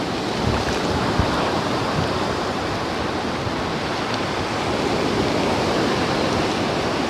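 Waves wash up on a beach in a steady, dense roar of surf, close and continuous with no voices.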